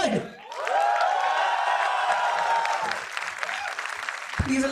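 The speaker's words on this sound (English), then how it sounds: "Come on, batch 2022, please applaud." Audience applause at a convocation ceremony, a sustained wash of clapping with some cheering and whooping from the graduating batch, fading slightly toward the end.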